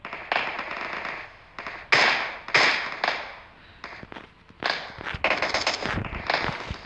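Gunfire in the mobile battle-royale game PUBG Mobile: a string of sharp cracking shots in irregular bursts, some closely spaced and some isolated, loud and close with no talk over them.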